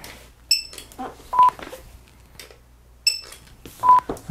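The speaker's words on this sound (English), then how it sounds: "You want to hear the little beep that it makes." Short electronic barcode scanner beeps recurring in two similar sequences, each a quick high chirp followed by a lower tone, close and clear over quiet background.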